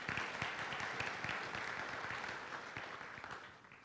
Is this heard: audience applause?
yes